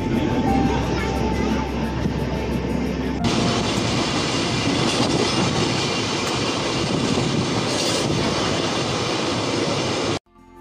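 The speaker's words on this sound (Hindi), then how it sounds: "हमारी सद्भावना एक्सप्रेस ट्रेन यहाँ पे पहुँची है" The Sadbhavna Express train arrives at a station in India, its wagons rumbling and clattering loudly and close in a continuous rolling roar with rhythmic wheel clicks before cutting off abruptly.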